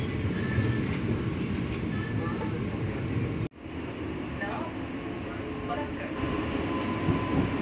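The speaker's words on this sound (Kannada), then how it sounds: "ಇವಾಗ ನಮ್ಮ ಟ್ರೈನ್ ಓಡ್ತಾ ಇದೆ." An Ernakulam to Bengaluru Vande Bharat express train runs at speed, giving a steady cabin rumble and hum with faint clatter and a brief sharp pressure thump partway through.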